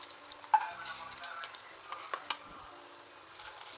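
Bitter gourd pieces fry in a pan with a faint, steady, crackling sizzle and a few brief utensil taps, heard mostly alone at low volume.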